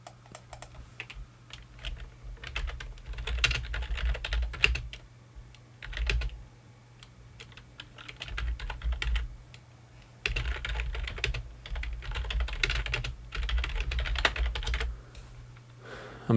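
Bursts of typing on a computer keyboard, quick clustered keystrokes with short pauses between runs, close and clear over a low steady hum, no voices.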